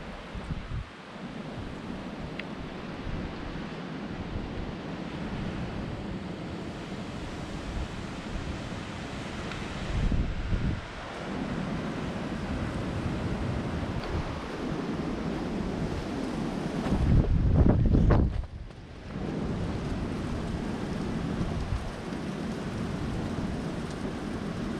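Strong storm winds roar steadily outdoors, broken by a few heavier gusts that swell into deep, loud bursts, one long blast coming late, with no one speaking.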